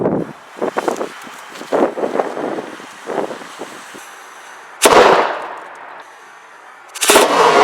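A 3D printed can cannon loaded with black powder fires with a single sharp, loud bang that decays into a rumbling tail, preceded by rustling and handling noise and followed by another burst of noise.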